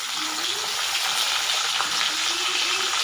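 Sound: garlic and onion frying in oil

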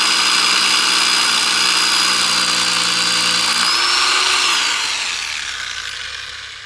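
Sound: rotary hammer drill drilling

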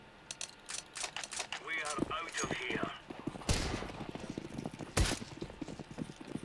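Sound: gunfire from the video game CS:GO

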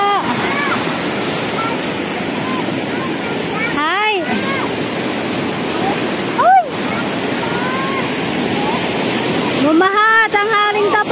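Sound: rushing floodwater after brief rain

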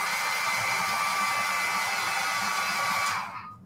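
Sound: dryer drying stained decoupage craft

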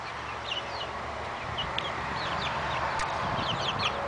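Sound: chickens clucking in a backyard

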